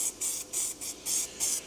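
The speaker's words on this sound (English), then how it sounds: "if I aerosol prime it, it's another level then" Aerosol primer is sprayed onto a welded car panel in five short hissing bursts with brief gaps between them, loud and close with no voices.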